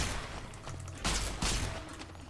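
Hold-down weapon firing in Fallout: New Vegas, a sustained, dense burst of rapid shots running throughout, with two louder surges partway through, close and with no talking over it.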